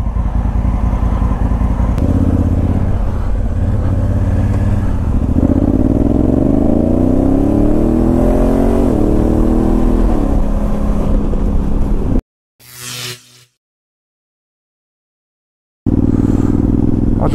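Honda Africa Twin DCT motorcycle fitted with a Remus exhaust riding on a wet road, its engine droning loud and close with rising and falling revs through gear changes, then cutting briefly to silence before resuming.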